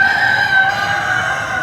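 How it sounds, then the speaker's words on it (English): Chickens in a poultry barn at the Kansas State Fair cluck and crow, a loud rooster crow ringing out over a steady background of clucking hens. "Oh my goodness. Look at all these chickens."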